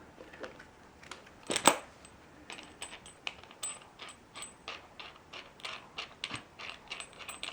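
The adjuster on a back massage device is unscrewed, giving a series of small mechanical clicks and ratcheting ticks at a fairly steady pace, close and quiet, with one sharper clack near the start.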